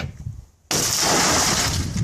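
Car window glass on a Ford XC Fairmont 351 under restoration suddenly shatters with one loud, sustained crash that fills the clip after a quiet start.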